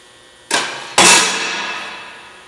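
A U.K.-made Bantam 12-ton, 48-inch pneumatic press brake bends 14 gauge steel to 90 degrees: two sharp, loud metallic bangs about half a second apart, the second with a long ringing decay.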